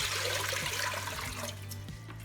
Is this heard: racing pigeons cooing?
no